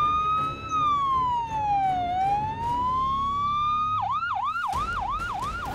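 An ambulance siren on the way to a hospital, first a slow rising and falling wail and then a rapid warbling yelp, loud and steady over traffic rumble.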